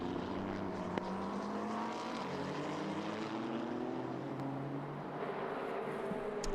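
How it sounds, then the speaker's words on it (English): Distant race car engines at Suzuka during a Japan Cup race droning and rising in pitch as they accelerate, a steady mechanical whine with no voices. "Two very different engine notes."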